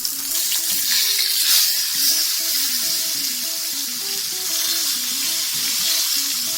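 Steady loud sizzling of fish frying in hot oil, continuous crackle with faint clinks underneath.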